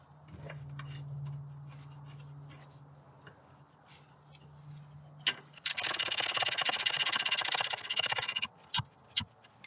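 A wrench working the bolt of a Ford C-Max torque engine mount: quiet handling and faint clicks at first, then a loud, continuous rapid ratcheting burst lasting a few seconds, followed by a couple of separate sharp clicks.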